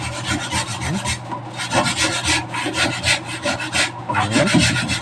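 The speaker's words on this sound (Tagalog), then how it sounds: "Ayan lang ang pag liha." Hand sanding of a wooden cabinet with sandpaper gives a continuous close scratchy rasping of rhythmic back-and-forth strokes, steady and fairly loud throughout with no talk.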